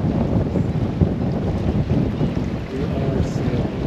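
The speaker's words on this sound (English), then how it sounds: "We are sailing." A Cheoy Lee 40 sailboat under sail, with a constant loud rush of wind buffeting the microphone over water and hull noise and no clear talking.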